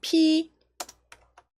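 A project name is typed on a computer keyboard during a smartphone app coding lesson: a short hummed vocal tone, then three sparse, separate key clicks in a quiet room.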